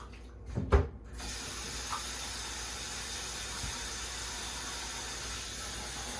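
Hot water runs into a bleach bucket in a steady stream that hisses continuously after a couple of brief knocks at the start, fairly quiet and even throughout.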